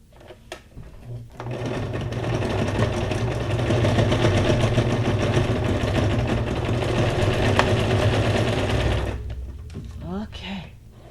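A sewing machine stitches junk journal ephemera in a long, steady whirring run of about seven seconds, close and loud, with brief handling clicks before and after.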